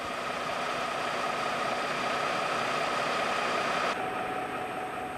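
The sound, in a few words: SNCF CC 65000 locomotive V12 MGO diesel engines running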